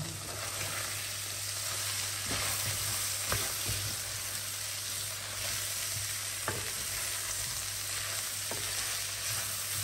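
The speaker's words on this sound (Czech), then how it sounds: "Zase to nechám trochu zarestovat." Peppers, chili pepper and spring onion fry in a pan for cowboy beans, giving a steady, loud sizzle throughout with occasional stirring scrapes and no talk.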